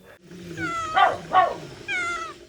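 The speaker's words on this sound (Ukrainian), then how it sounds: "у них є бойові коти" House cats, pets of a displaced couple who keep nearly a hundred animals in Vinnytsia region, meow loudly and close by, giving three drawn-out, wavering cries one after another with no talking.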